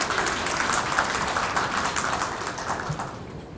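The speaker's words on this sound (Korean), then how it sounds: "여러분 힘찬 박수로 맞아주십시오" An audience at an exhibition opening ceremony claps in a dense, steady burst of applause that fills the room and begins to thin toward the end.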